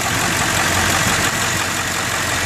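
A 2000 Ford F250 XLT truck engine drones steadily without pause, a constant idling rumble heard up close with no talking.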